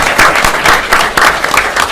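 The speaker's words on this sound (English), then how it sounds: "a round of applause for family" A small group at a borough council meeting claps in a short burst of applause lasting about two seconds, steady and fairly close, with no voices over it.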